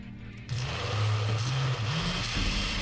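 A blender switches on and runs steadily, blending a thick green chili hot sauce with added water, its motor droning loud and close with slight pitch wobbles as the mixture churns.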